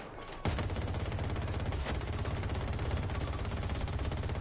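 Rapid automatic gunfire from Battlefield 2042 hammers at a tank, starting abruptly after a brief lull and continuing as a loud, steady stream of shots.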